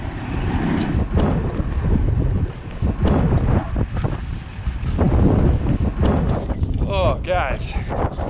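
Strong wind gusting over the microphone on a ski mountain at Breckenridge, a steady loud roar of buffeting that runs the whole time, with a voice speaking briefly over it near the end.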